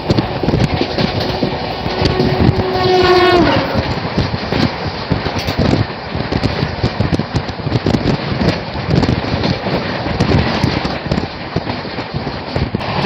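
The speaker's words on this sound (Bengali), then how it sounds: "ট্রেন ছুটে চলেছে, দেখো" The Howrah–Chennai Mail express rushes along the rails, a loud, continuous roar with wind buffeting the microphone and rhythmic rattling; a brief horn-like tone sounds early on.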